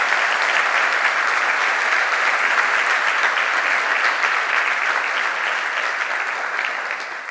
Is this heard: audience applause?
yes